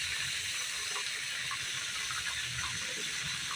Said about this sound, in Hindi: फिलहाल हम फिश को कर लेंगे फ्राई